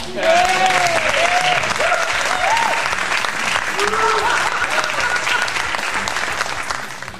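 Audience applause on a retrocomputing podcast, steady dense clapping that holds for the whole stretch, loud and close, with no talk over it.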